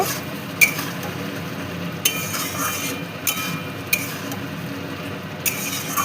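A spoon works through soybean and potato curry spices in a pan, giving soft scraping and a few sharp clinks against the metal at intervals over a faint background.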